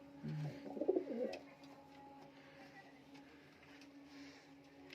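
Giribaj pigeons in a loft, with a short burst of low cooing near the start, then a quiet room with faint murmuring and a steady background hum.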